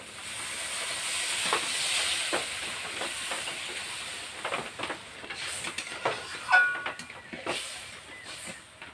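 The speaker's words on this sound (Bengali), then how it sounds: "মশলাটা আমার বেশ ভালো করে কষানো হয়ে গেছে। এবার জল দিয়ে দেবো।" Water poured into Bengali curry spice paste, fried down with garlic, turmeric and chili powder in a hot pan, bursts into a loud steaming hiss with crackling sputters that gradually settle into a softer simmer.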